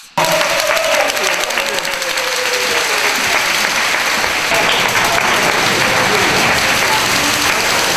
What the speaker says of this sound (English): I want you to give yourselves a round of applause